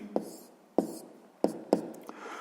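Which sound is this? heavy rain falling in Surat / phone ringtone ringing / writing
writing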